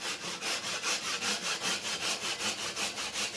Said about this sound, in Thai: เราจะมาเลื่อยตรงนี้แทน